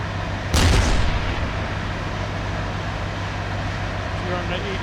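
A single heavy artillery blast or gunshot booms out in a military video game, a sharp broadband crack that decays over about half a second, followed by a steady low rumble of engine-like background.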